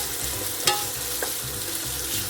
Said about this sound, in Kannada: ಇದೊಂದು 2 ನಿಮಿಷ ಬಾಡಿ ಈರುಳ್ಳಿ ಫ್ರೈ ಆಗಿದೆ